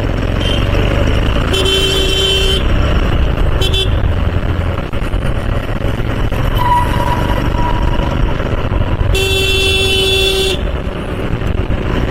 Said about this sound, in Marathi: खूप ट्रॅफिक आहे, थोडं हळूहळू चालवायची गाडी